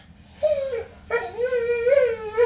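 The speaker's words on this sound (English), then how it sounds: "He's a noisy little mutt." A small dog lets out two drawn-out whining, howl-like cries with a brief break between them, close and fairly loud.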